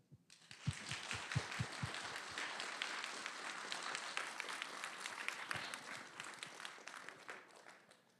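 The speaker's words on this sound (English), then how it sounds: "I just want to give a round of applause to our speaker." Event attendees at a STEM talk applaud the speaker, starting with a few distinct near claps and swelling into steady, moderately quiet applause that fades toward the end.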